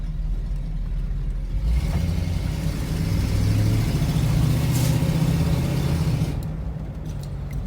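A hearse's engine rumbles steadily at close range, a low continuous chugging drone that swells slightly midway and then eases off.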